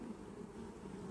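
Bees crawling over a hive frame during a split transfer, a steady, faint, low buzzing hum with no breaks.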